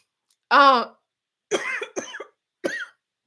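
A voiced throaty burst followed by three short, rough coughs, spaced apart, close and fairly loud against silence.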